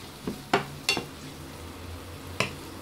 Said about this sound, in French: Là, je vais ajouter les champignons. Je vais les faire bien sauter jusqu'à ce qu'ils soient bien cuits.